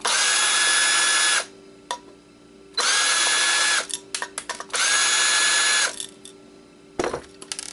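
A power screwdriver whirs in three long bursts while backing screws out of an Xbox hard drive, with short clicks and ratcheting taps between the runs, close and loud with no talk.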